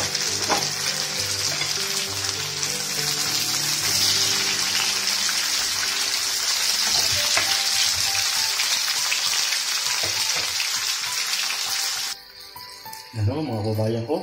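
Tomatoes frying with garlic and onion in a pan for pasta Bicol Express, a loud continuous sizzle with stirring scrapes, then a sudden drop near the end as the heat or stirring stops.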